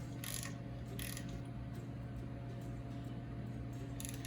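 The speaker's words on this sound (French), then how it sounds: "avec la clé dynamomètre, on met la bonne tension sur les boulons" A torque wrench tightens the brake nuts on an MC9 coach in a shop. A few faint ratcheting clicks come through over a steady low mechanical hum.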